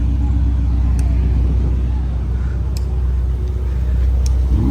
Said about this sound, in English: it's always exciting hearing everyone's car start up and everyone starts revving